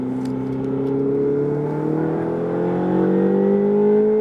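A Ferrari engine revs up steadily, its drone rising in pitch and growing louder over a few seconds, close and continuous.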